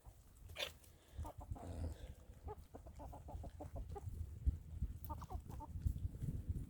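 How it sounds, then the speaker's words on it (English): A speckled Sussex and Rhode Island Red cross rooster and a flock of chickens make soft clucks and scattered calls outdoors in late winter, moderately faint and continuous, with no talk. "This tall red rooster over here, and that's a speckled Sussex Rhode Island Red cross"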